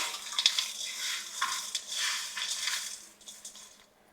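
Fried chilies, peanuts, cashews, raisins and curry leaves are stirred into potato chivda in a pan, a close, soft rustling scrape with a faint sizzle in uneven strokes, fading toward the end.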